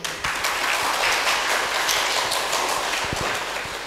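Steady applause from a gathered audience at a Buddhist dharma talk, dense clapping sustained at even loudness throughout with a few sharper claps standing out near the end.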